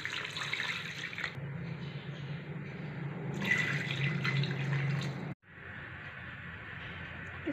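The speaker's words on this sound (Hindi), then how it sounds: "2 ग्लास वाटर ऐड करेंगे।" Two glasses of water poured into a pot of mutton with garlic-ginger paste and salt for a Lahori white mutton karahi, a steady splashing pour lasting several seconds with a brief break before it continues, close and fairly loud.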